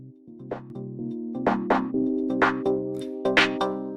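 Instrumental mix of an electronic dance track with punchy rhythmic hits and sustained synth tones, moderately loud and alone, no voices.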